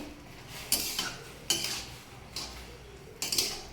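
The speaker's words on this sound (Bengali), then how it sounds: "এখন এটাকে নেড়ে চেড়ে দেবো।" A spoon scrapes and clinks against a cooking pot while green beans with a whole raw green chilli are stirred, giving a few separate metallic scrapes about a second apart, close by, with no talking.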